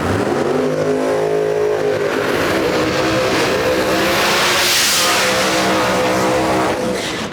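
A drag race car, a fuel-burning machine at an outlaw drag event at National Trail Raceway, roars continuously and loud as it accelerates hard down the track, the engine pitch climbing and sweeping through the whole run.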